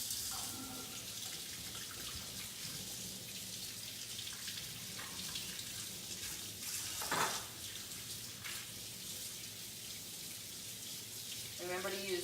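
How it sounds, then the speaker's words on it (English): Warm tap water runs steadily into a sink as chalk transfers are rinsed beneath it, a soft continuous trickle and splash with a few louder bursts and no talking. "I'm just gonna rinse these under the water"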